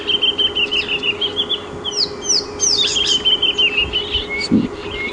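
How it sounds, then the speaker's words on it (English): Wild birds at Djuma Game Reserve, including drongos, green pigeons and black flycatchers, chirp and whistle in quick overlapping calls, with a low steady hum underneath. "There seems to be a really beautiful little bird party going on here."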